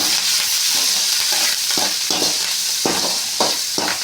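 Curry leaves and spices with salt crackle and fry steadily in a hot pan, a continuous close sizzle with a few louder bursts of spattering and stirring, and no talking.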